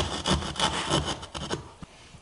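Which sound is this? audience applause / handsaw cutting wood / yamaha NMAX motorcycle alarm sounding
handsaw cutting wood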